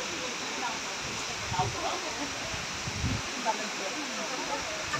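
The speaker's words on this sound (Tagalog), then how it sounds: "Hidden waterfalls." A hidden waterfall in South Korea gives a steady, broad rush of falling water at moderate level throughout, with faint voices and small movement noises showing through now and then.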